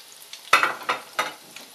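Croquetas frying in a pan give a soft, steady sizzle broken by a few sharper bursts of spattering and stirring contact, close and moderately loud with no talking.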